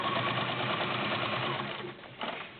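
A Kenmore model 1755 sewing machine stitches through twelve layers of thick cotton fabric, running with a loud, steady rapid mechanical whir and chatter close up, slowing slightly near the end.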